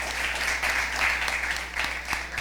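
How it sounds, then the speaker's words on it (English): Applause from the audience at a secondary-school junior science quiz competition, a steady wash of many hands clapping that fills the whole stretch at moderate level, with no talk over it. "give them a round of applause."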